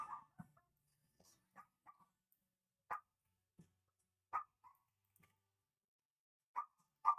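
A dog barks in short, sparse yips and woofs with long quiet gaps between them, faint and somewhat distant.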